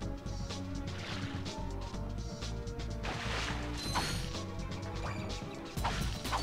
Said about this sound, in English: gotta crank that bolt